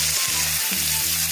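Bamboo shoots fry in a pan over a forest cooking fire, giving a steady, close hiss and sizzle with a low hum running underneath throughout.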